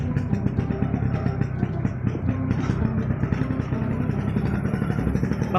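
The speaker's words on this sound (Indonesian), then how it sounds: "Vespa dibawa ke gunung guys." A Vespa scooter engine on a mountain road, a steady close mid-pitched drone with clattering rattles running throughout, no clear speech over it.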